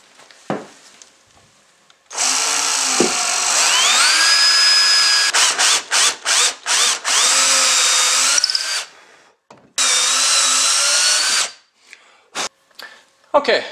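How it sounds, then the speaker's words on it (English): A power drill countersinking screw holes in red oak boards for a storage bench whines loudly in sustained bursts, with several short stop-start pulses in the middle and a final burst before it winds down. "I've countersunk these in a little bit"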